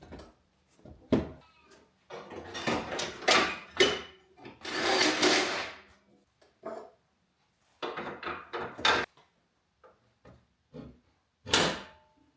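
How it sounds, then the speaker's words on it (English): A cleaned, freshly greased car bonnet latch on an Audi/VW 1.8T engine-swap project, worked with a screwdriver: a scattered series of sharp metallic clicks and clunks with short quiet gaps, close and fairly soft. "The latch has been thoroughly cleaned and has some fresh grease applied, so I'm testing it with this screwdriver"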